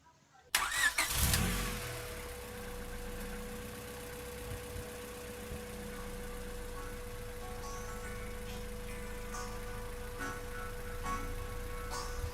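A car drives along at steady speed, its engine a continuous mid-level hum with a sustained tonal whine, starting just after a brief quiet moment and holding evenly throughout, no talking.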